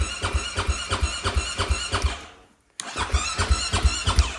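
A dirt bike engine sputters with quick rhythmic firing, cuts out briefly into near silence, then catches and runs on with a steady pulsing beat, loud and close.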